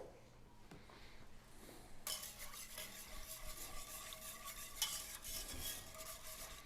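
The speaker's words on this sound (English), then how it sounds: "as you're bringing this liquid to a boil, make sure you're whisking it" Heavy cream and broth are whisked in a pot on the stove as they come to a boil. A steady scraping and stirring starts up partway through over a low kitchen hiss.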